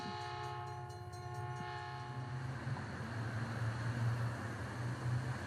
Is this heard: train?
yes